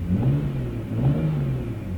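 An old car engine revs from inside the cabin, a steady, loud low-pitched drone that swells twice over about two seconds, with no talking.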